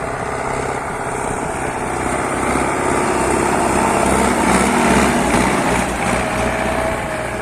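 An MTZ-80 tractor engine runs steadily and loudly in sixth high gear with no exhaust pipe fitted, a constant buzzing drone that swells slightly in the middle.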